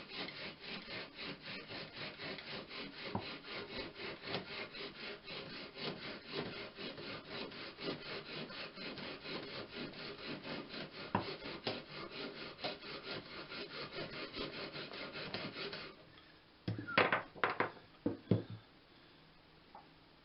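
Bow drill spindle sawing back and forth against a wooden board, a fast rhythmic rasping friction close up for about fifteen seconds, followed by a few scattered knocks and scrapes.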